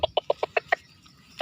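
A recorded wild junglefowl hen is played back, clucking six times in a quick, evenly spaced series, then a short pause before another call begins. The sound is loud and close, with no talking.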